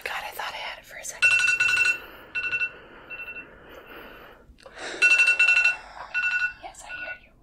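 A digital timer alarm beeps in two loud bursts of rapid repeated electronic tones separated by a pause, with soft whispering voices around and between the beeping.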